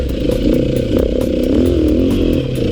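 A Beta RR480 enduro motorcycle engine running close by, with a loud, rough, buzzing engine note that wavers and bogs slightly from idle.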